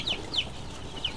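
Day-old Lohmann laying hen chicks chirp in repeated short, high peeping bursts, about three calls in quick succession over a steady background hum, with no talking.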